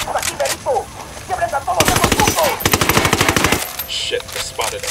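Rapid automatic gunfire rips out in Ghost Recon Wildlands during a casino raid mission, a loud sustained burst of closely spaced shots lasting nearly two seconds, framed by quieter scattered shots and ambient game noise.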